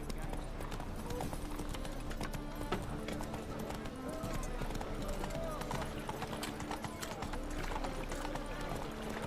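Hooves of the horse Roach in The Witcher 3 clop in a steady running rhythm under constant game music and ambience, with no clear talk over them.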